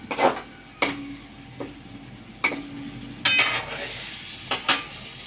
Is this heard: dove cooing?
no